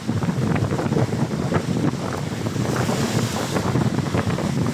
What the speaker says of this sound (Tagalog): Medyo malakas lang yung alon kasi mahangin.